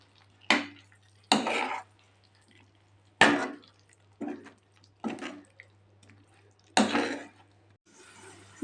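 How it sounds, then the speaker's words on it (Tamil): Half-cooked ivy gourd (kovakkai) being stirred into gravy in a pot: a handful of separate scraping, clattering strokes of a spoon against the pot, spaced a second or so apart over a low steady hum. "நம்ம ஏற்கனவே பாதி அளவு வேக வச்சுருக்கிற கோவக்காய் அதில் சேர்த்துடலாங்க. சேர்த்துட்டு நல்லா மிக்ஸ் பண்ணிக்கலாங்க."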